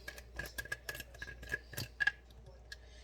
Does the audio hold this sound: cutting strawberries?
yes